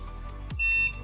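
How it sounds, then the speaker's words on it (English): A single short electronic beep from a dog training collar receiver, a thin high tone held for about half a second, fairly quiet. "It beeps"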